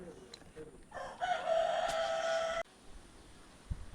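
Chickens and a rooster at a small backyard poultry farm give a clear crow-like call lasting over a second amid quieter clucking and faint ambient noise, at moderate distance.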